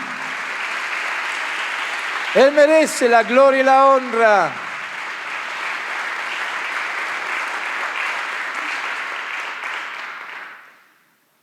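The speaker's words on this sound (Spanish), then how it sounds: "Denle un fuerte aplauso a Jesús, por supuesto que sí." A church congregation at a Sunday service applauds in worship, a broad, sustained wash of clapping that fades out at the end, while a voice speaks briefly over it early on.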